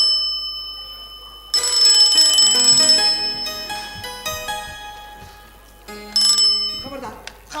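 A bright electronic telephone rings in two loud bursts of rapid, repeated tones, separated by a pause, with some clatter and voices around it.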